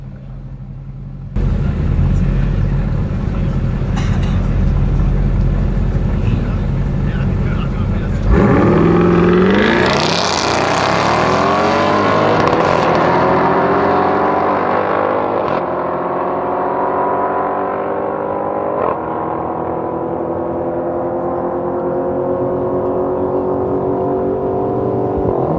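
Two Audi RS6 Avant C7 cars, one with 720 and one with 560 horsepower, launch in a drag race and roar loudly as their engines climb through the gears, then fade to a long steady drone.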